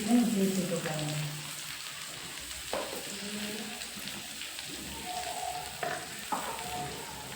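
Garlic and spices fry in a pan over a low gas flame with a soft, steady sizzle and occasional stirring scrapes, fairly close and continuous.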